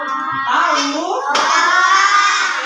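A group of schoolchildren claps and chants a rhythmic spirit cheer together in a classroom, with busy overlapping claps under their loud voices for a few seconds.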